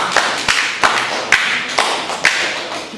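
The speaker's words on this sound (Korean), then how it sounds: "박수 한번 해주세요" Congregation at a church worship service clapping in a steady rhythm, about six loud sharp claps spaced roughly half a second apart, close and clear with no voices over them.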